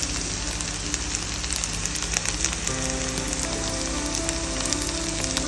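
Sliced onions frying in oil in a pan for Kerala-style pork roast, a loud, steady close-up sizzle with fine crackling and a low background hum, no voices.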